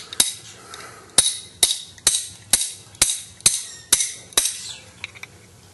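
A 3/4 inch socket is tapped to seat a clip on a Tecumseh carburetor. Nine sharp, evenly spaced metallic knocks ring close and loud, with no talk.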